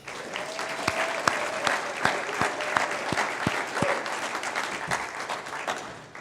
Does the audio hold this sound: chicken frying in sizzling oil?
no